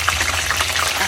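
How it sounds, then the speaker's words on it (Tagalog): Tilapia fish sizzling in hot oil in a pan, a steady broadband hiss with faint crackles running the whole moment without pause. "Magluto tayo ng tilapia prito."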